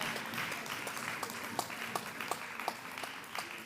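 Audience clapping at a public sector debate competition, fairly quiet with a few sharper individual claps standing out at a loose, regular pace.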